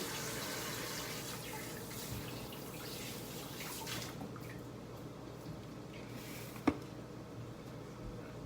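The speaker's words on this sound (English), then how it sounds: "Wash my hands again, 1 second." Tap water runs at a kitchen sink as hands are washed, a faint steady splashing stream that quiets partway through, with one sharp knock near the end.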